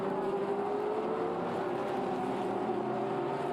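GT race cars crossing the finish line during qualifying at Fuji, a loud, steady engine drone with a sustained tonal whine, close and continuous, with no voices heard.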